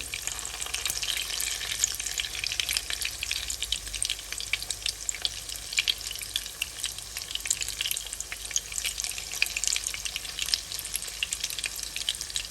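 Small fish koftas fry in hot oil, making a dense, loud and steady sizzle with a constant crackling hiss close up. No one speaks.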